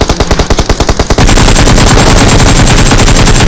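Gunfire in PUBG Mobile: a very loud, close burst of rapid, evenly spaced automatic shots that merges into continuous, overlapping fire from more than one weapon.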